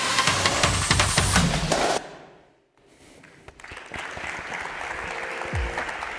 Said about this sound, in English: a round of applause for the jury